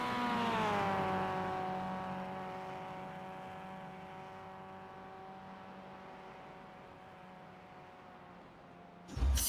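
Race cars in an iRacing sim race at the Nürburgring Nordschleife cross the finish line, a loud sustained engine drone with steady harmonic whine that slowly fades, then a sharp burst of noise at the very end.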